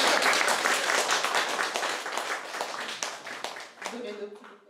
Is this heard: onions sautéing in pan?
no